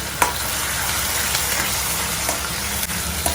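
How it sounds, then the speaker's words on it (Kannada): Onion paste fries in hot oil in a home kitchen pan while paneer palak bhurji is being cooked, giving a steady, dense sizzle with a few faint clicks of a spoon, and no voices. "ಒಂದು ಆನಿಯನ್ ಪೇಸ್ಟ್ ಹಾಕೊಳ್ತಿದ್ದೀನಿ"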